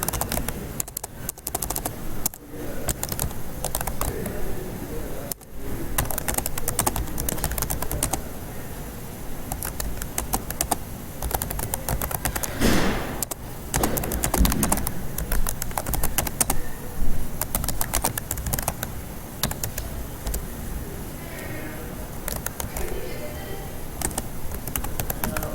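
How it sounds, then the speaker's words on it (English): Rapid, uneven clatter of fingers typing on a computer keyboard, close and clear, with bursts of keystrokes, short pauses and a few sharper taps, no one speaking. "the typing will take a few minutes"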